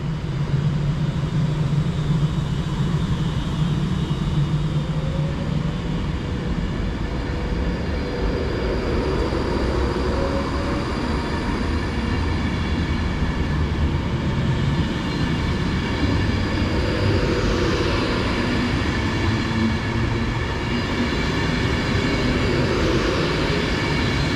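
A British train running on the West Coast Main Line Stoke branch, a steady loud rumble of rolling stock with a continuous mechanical drone that holds evenly throughout, no talking over it.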